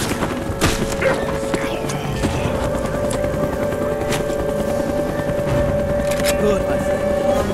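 Helicopter rotor thrum from the Call of Duty Black Ops game, steady and prominent beneath game talk, punctuated by crashes and impacts.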